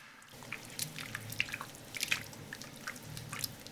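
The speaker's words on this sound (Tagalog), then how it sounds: "Magbuhos din tayo ng tubig dito." Water poured into a pan of melted butter and flour while making a cheese sauce for loaded fries, giving soft, irregular close-up drips and small splashes over a faint sizzle, with no talking.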